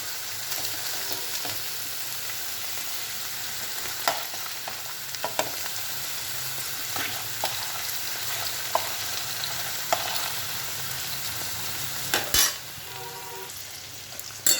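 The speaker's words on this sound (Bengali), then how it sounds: "পেঁয়াজগুলো সুন্দর করে ভাজা হয়ে গেছে, তুলে নেব হাতার সাহায্যে।" Onions fry in hot oil with a continuous bubbling sizzle, broken by scattered scrapes and light clinks of a ladle against the pan.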